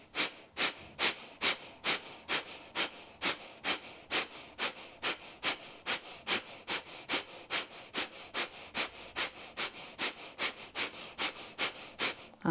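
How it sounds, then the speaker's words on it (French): A person breathes during a yoga breathing exercise, with about two dozen sharp, rapid, evenly spaced breaths in a steady rhythm, close and alone with no talk. "on inspire à mi-poumon."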